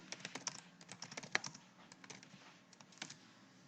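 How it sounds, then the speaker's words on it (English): Rapid typing on a computer keyboard, a close, steady patter of small key clicks with a few louder strikes, no voices. "This is where you type in your question."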